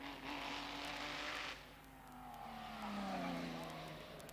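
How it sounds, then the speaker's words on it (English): Audi Sport quattro race car powering up a hillclimb course at Shelsley Walsh, a loud engine note that dips briefly as if changing gear, then climbs steadily again under strong acceleration. "a hesitation in changing gear and strong acceleration up towards the crossing"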